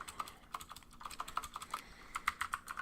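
Fingers type on a mechanical keyboard in quick, uneven bursts of sharp clicky keystrokes, fairly close and quiet, with short pauses between runs and no talking.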